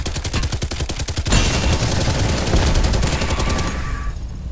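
Sustained automatic gunfire in the stealth action game Hitman, a fast steady rattle of shots that runs loud and unbroken for several seconds before tapering into a fading tail.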